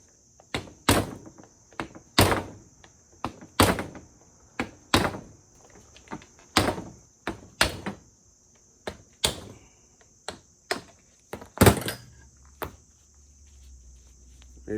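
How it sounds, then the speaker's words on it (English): A homemade chisel hammered to knock out a collapsing bushing shell during a Jaguar IFS front suspension rebuild for a 1956 Chevy truck: a series of about a dozen sharp metallic strikes at uneven intervals, close and loud, with a high ringing note behind them. "I just hit that with the homemade chisel there, and its bushing shell is collapsing"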